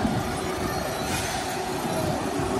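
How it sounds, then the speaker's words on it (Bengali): A train rolls past close by near Kamarkundu station, a continuous loud rumble of wheels on rails with a faint squealing tone throughout. "ট্রেন যাচ্ছে।"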